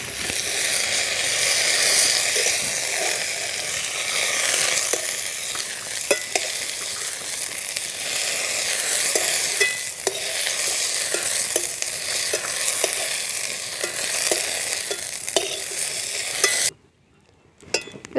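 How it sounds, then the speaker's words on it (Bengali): Pointed gourd (potol) frying in oil in a pan for a village-style home-cooked dish, giving a loud, constant sizzle broken by scattered stirring clicks before cutting off abruptly near the end. "পটলগুলো ভাজা হয়ে গেছে"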